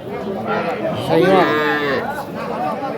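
At a cattle market in Kushtia, a two-to-three-month-old calf of local or Sahiwal breed gives a loud, drawn-out moo close by, with market chatter and other voices continuing underneath.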